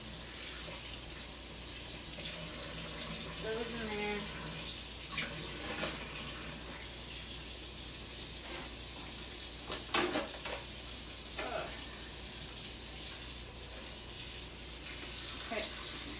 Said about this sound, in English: Let's just run some water in there.